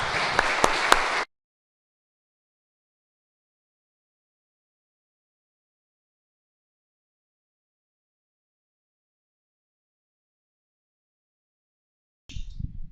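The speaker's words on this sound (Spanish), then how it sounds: "Damos un aplauso, hermanos, al Señor." A church congregation claps together in a short burst of applause. Silence follows, then a brief second flurry of clapping at the very end.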